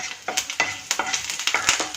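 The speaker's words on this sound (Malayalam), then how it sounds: "ഒരല്പം വെളിച്ചെണ്ണ കൂടി ഒഴിച്ച് കറിവേപ്പിലയും പത്തൽമുളകും ഒന്ന് താളിച്ചെടുക്കണം" Curry leaves and chillies crackle and spit in hot coconut oil, with rapid bursts of sizzling and sharp pops repeating every fraction of a second.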